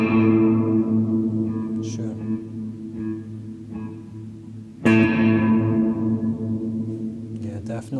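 Electric guitar chords through a Seymour Duncan Silver Lake reverb pedal ring out and decay into a long washy reverb tail, a soft strum followed by a harder, louder attack.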